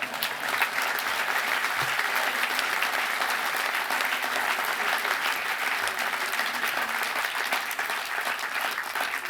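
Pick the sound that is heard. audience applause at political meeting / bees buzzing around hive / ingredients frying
audience applause at political meeting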